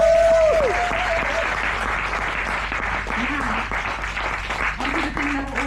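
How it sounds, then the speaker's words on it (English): Audience applause for authors at a new adult book prize announcement, a steady wash of clapping filling the room close and loud, with a few voices and whistles rising over it. "I'd like to give a very big round of applause to my incredible authors."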